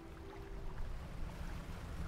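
Low, steady engine rumble of a small fishing boat with an upgraded engine moving across open water in the Dredge video game, continuous throughout, with a brief tonal hum early on.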